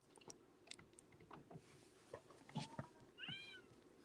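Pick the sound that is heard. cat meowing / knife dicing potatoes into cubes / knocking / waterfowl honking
cat meowing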